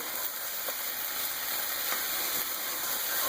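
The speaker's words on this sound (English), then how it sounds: "Make sure we're giving it a stir. Trying to get all the potatoes and onions stirred up, so that way we can hopefully evenly fry all of these." Potatoes and onions sizzle steadily in a frying pan, a continuous close hiss with a few soft scrapes and clicks from stirring and no voices.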